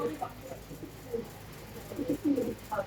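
Saharanpuri blue pigeons, a master pair of high-flying birds, coo in short soft bursts close by, with a louder run of cooing toward the end.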